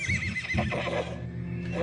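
A horse neighs loudly and close by, a shrill quavering whinny that drops into lower snorting tones, with muffled shuffling in the background.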